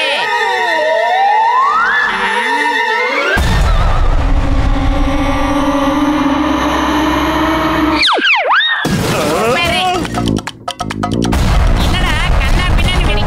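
A cartoon bomb, an invisible bomb in a Motu Patlu episode, goes off in loud animated blasts: one sudden broadband boom partway through, then a dense roaring burst near the end, with music and sound effects throughout.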